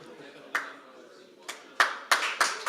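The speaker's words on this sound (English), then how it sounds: "Big round of applause" A handful of separate, sharp hand claps ring out at a startup pitch night, sparse and uneven rather than a full ovation, each crisp and fairly close with quiet room tone between them.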